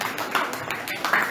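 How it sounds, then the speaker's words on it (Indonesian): A classroom of children claps for a classmate named Ilham: a brief, fairly loud stretch of mixed clapping with voices mixed in. "Ilham, tepuk tangan dulu buat Ilham"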